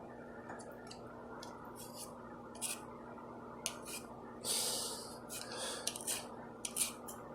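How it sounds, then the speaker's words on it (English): Potatoes being scraped with a vegetable peeler, giving soft intermittent rasping strokes, brief and fairly faint, over a steady low background hum with no talking. "Got my faithful peeler. So we're going to go ahead, start peeling them."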